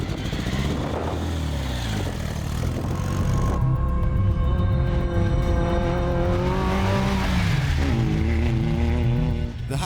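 Engine of the Hackrod, an AI-designed custom car, revs loudly and steadily, rising and falling in pitch across several seconds with no talk over it.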